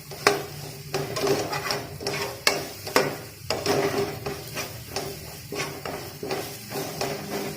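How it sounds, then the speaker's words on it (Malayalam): A spoon stirs and scrapes spice powders roasting in oil in a pan for Kerala chicken stew, with rhythmic scraping strokes and sharp metal knocks against the pan over a soft sizzle. "ശേഷം പൊടികളെല്ലാം നല്ലപോലെ മൂപ്പിക്കാം."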